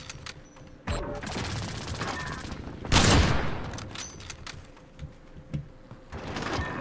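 Gunfire in Modern Warfare, scattered loud shots with one heavy blast near the middle, set against background clatter and faint game sounds.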